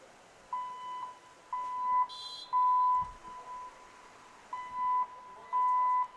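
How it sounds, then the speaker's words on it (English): A campus alarm drill sounds at a soccer match: a test alarm gives a steady series of short, high, evenly spaced electronic beeps, faint and distant over quiet outdoor ambience. "we've got an alarm drill going on here on campus. Looks like a test."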